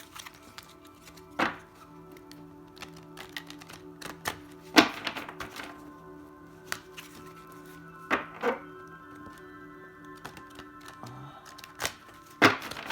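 A deck of oracle cards is handled indoors in a sparse series of separate taps and soft thuds spaced a second or two apart, with faint rustling between them over a low steady background hum.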